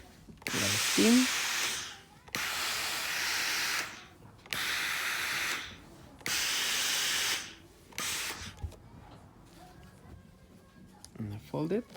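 A steam iron hisses in several long bursts against fabric while a bustier and bra cup foundation is pressed, each loud spray separated by short pauses, with brief speech near the start and end.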